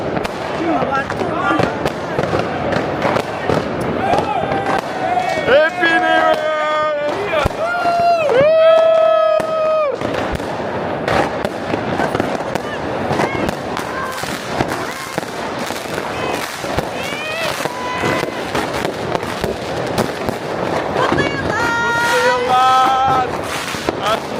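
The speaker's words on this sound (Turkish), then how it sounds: "Herkesin elinde havai fişek var." Crowds set off New Year's Eve fireworks in German streets: continuous crackling bangs and whistling rockets echo all around at close range, loud and dense, while people talk and shout underneath.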